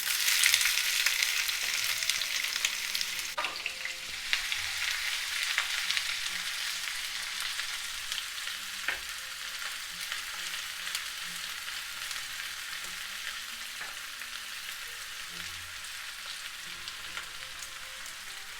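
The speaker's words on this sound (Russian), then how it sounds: "Сначала выкладываю лук, для того, чтобы он отдал весь свой аромат маслу." Chopped onion sizzles in hot oil in a pan over high heat, the start of a Hungarian beef goulash: a continuous, even crackle and hiss that holds steady throughout without any talking.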